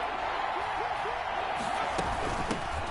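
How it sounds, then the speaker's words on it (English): Football stadium crowd at a Carolina–Tampa Bay game roars steadily before a big third down, a dense, continuous wash of cheering with a few sharper claps and shouts rising through it. "The crowd getting into it as we come up on a big 3rd down."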